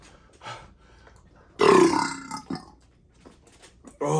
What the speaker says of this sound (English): Oh, bassy burps, baby.